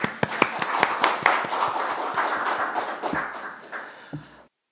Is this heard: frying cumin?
no